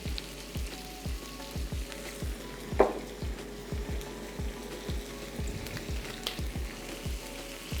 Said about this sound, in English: You can see our onions are already starting to cook down, so just cook them until they are completely caramelized.